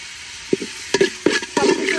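Garam masala, chopped onion, green chili and garlic fry in hot oil for khichuri with lentils and chicken, giving a steady sizzle with several short stirring scrapes and clacks, close and loud.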